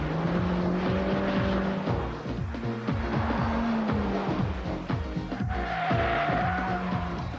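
A 1999 Peugeot 206 GTI driven hard around a test track, its engine note rising and falling through repeated gear changes, loud and close throughout with a brief tyre squeal.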